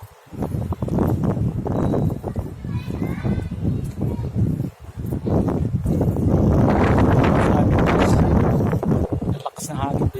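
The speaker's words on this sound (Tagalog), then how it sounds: "Lakas ng hangin dito." Strong wind buffeting the microphone in gusts, rumbling and roaring, with people talking underneath.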